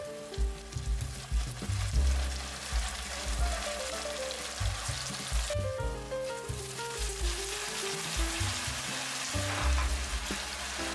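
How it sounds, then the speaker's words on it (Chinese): Pieces of hairtail fish pan-fry in oil, giving a steady, close sizzle with crackling spatters that continues without a break and with no talking over it. "上面的胶质煎酥会很好吃，差不多煎个5分熟就可以了"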